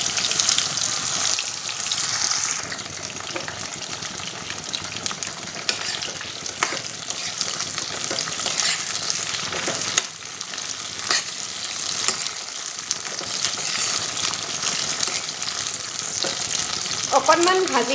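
Jujubes frying in mustard oil with panch phoron give a steady, close sizzle that runs the whole time, with stirring scrapes and occasional clinks of a spoon against the pan.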